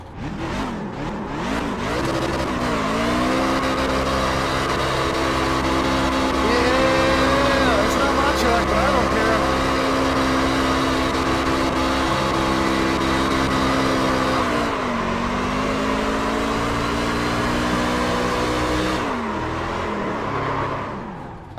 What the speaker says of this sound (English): it wouldn't be a celebration if we didn't get our victory lap burnout